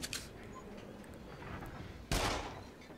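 Gunfire aimed at clowns in the PSVR game Rush of Blood, with a couple of faint early shots and then one loud sharp blast that rings out, heard over quiet game ambience.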